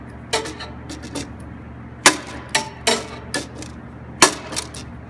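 A crescent wrench tightening a fitting while reassembling a solenoid valve on an Apeks supercritical extractor: a handful of sharp metallic clinks and taps spaced irregularly, close and fairly loud, with no talking.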